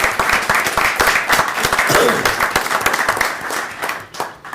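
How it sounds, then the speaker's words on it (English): A room full of people at a county board of commissioners meeting claps steadily in a dense round of applause that tapers off toward the end. "I think that's a round of applause."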